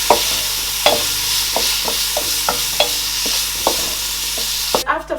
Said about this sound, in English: I'm going to add our prawns. I'm going to fry this